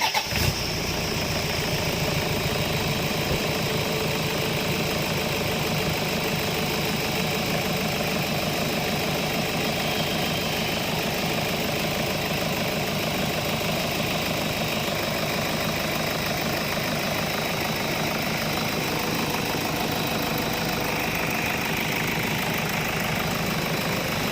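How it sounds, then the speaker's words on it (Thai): A car engine, freshly refilled with a new brand and viscosity of engine oil, idles in a steady, continuous close drone for the whole stretch. "คราวนี้ทิ้ง สตาร์ทเครื่องทิ้งไว้ประมาณ 15 นาที"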